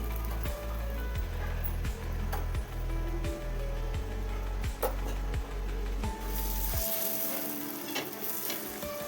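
Butter sizzling on a hot tawa griddle for pav bhaji, a low steady hiss under rhythmic low thumping that swells into a brighter, louder sizzle near the end.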